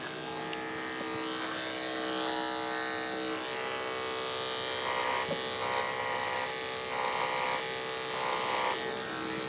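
Electric clippers trim a horse's tail, holding a loud, continuous close-up buzz throughout with slight shifts in pitch as the blades move through the hair.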